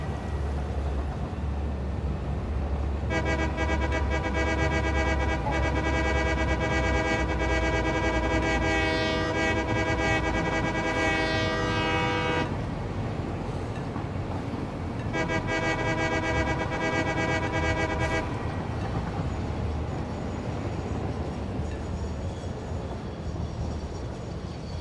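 Train horn and rumbling train in a railway video game, two long sustained horn blasts over a steady rolling engine and track noise, loud and near.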